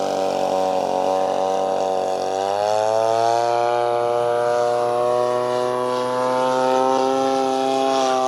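A Legend Hobby / Seagull Models Cessna Grand Caravan EX 85-inch RC model airplane drones loudly and steadily in flight. Its engine pitch shifts slightly a few seconds in, then holds a constant buzzing tone.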